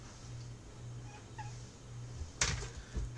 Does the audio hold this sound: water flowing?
no